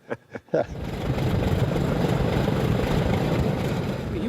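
The four engines of a restored B-29 bomber start up, a few short coughs giving way to a steady, dense rumble that fills the space.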